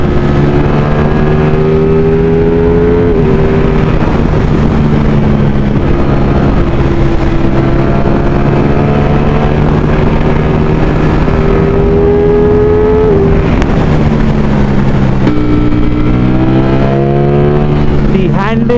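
Ducati Streetfighter V4 motorcycle accelerating hard, a loud, continuous engine howl rising in pitch through repeated gear changes, with wind buffeting and a rider's voice mixed in.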